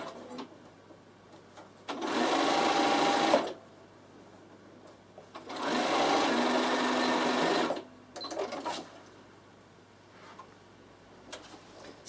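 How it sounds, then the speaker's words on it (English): A Bernina sewing machine stitches a half-inch seam in two loud, steady bursts of rapid mechanical whirring, each a second or two long, separated by quiet pauses with small clicks and handling noise. "And now I'm going to sew my 1/2 inch seam"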